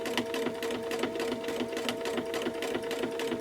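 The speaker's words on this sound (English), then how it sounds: "it may just be time to speed up that needle." A sewing machine stitches quickly during free-motion micro quilting, a rapid, even mechanical chatter heard up close and alone for a few seconds.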